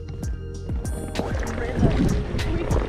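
A canoe being paddled on water, with irregular splashes and knocks of the paddle against the hull, close by, while people talk and laugh over it.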